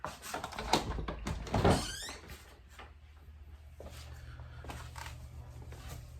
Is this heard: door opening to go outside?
yes